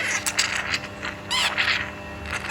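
A coconut oil extraction machine runs with its screw rod turning, making a close mechanical grinding and ratcheting clatter with creaking gear noises.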